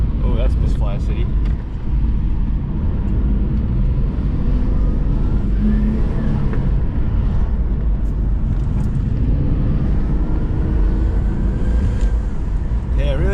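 A Nissan Stagea NM35 engine idles and runs at low revs with an uneven, stumbling misfire, a continuous rough rumble close by, while someone talks over it.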